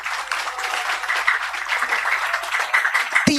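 An audience claps and applauds at a religious lecture, a dense steady patter of many hands that runs evenly throughout and breaks off at the end with a short voice.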